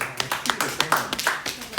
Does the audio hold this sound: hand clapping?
yes